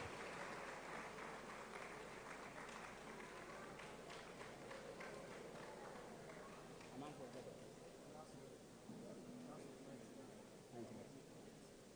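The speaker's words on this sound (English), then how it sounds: "A round of applause." An audience at a professorial inaugural lecture claps, a fairly faint patter of many hands that thins out after several seconds while voices carry on underneath.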